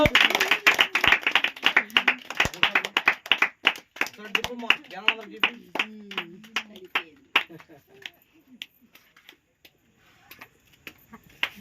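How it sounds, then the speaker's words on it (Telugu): A crowd of people clap at a home birthday cake cutting for a sixteen-year-old girl, a brisk run of sharp hand claps that tapers off and thins to scattered claps, with speech and singing-like voices under it. "చప్పలు కొట్టండి అందరూ"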